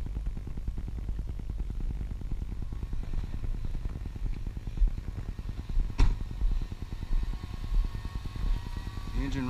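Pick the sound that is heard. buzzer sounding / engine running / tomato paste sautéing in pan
engine running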